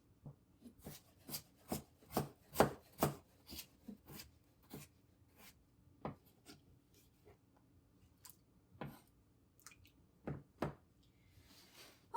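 A knife chopping vegetables such as potatoes on a cutting board for homemade chicken soup, a quick run of close, crisp cuts that slows into scattered single chops, quiet with no talking.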